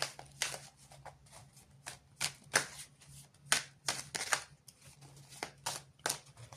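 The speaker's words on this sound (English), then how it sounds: "I will shuffle cards." Tarot cards are shuffled by hand, a quick run of soft crisp riffles and slaps repeating in bursts, close by and fairly quiet.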